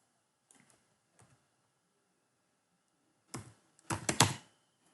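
A few isolated key taps on a computer keyboard while numbers are entered, followed by a denser, louder flurry of clicks near the end, close-up with silence between and no talking.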